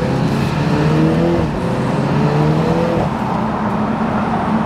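A new BMW Z4 in sport mode on a coastal mountain road, its engine note climbing and dropping through gear changes with rough exhaust crackle, heard loud and close from inside with no talk.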